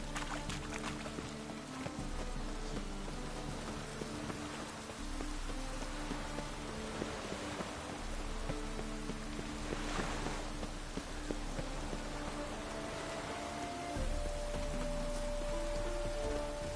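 Steady rain patters through a dark, wet scene in The Witcher 3: Wild Hunt, a dense wash of drops running throughout under low tonal game music, with no voices.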